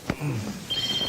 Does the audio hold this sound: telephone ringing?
yes